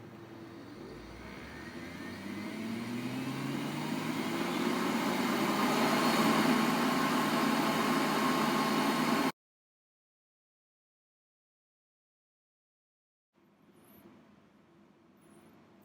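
A laboratory centrifuge spins up toward 13,000 RPM for a hematocrit packed cell volume test, its whine rising steadily in pitch and loudness into a loud close hum, then cutting off into silence before a faint low noise returns.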